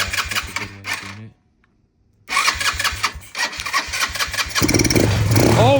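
A cheap quad ATV engine, primed with ether and fitted with a new CDI box, cranks briefly, falls silent, then catches and revs up loudly and unevenly, running rough and close by.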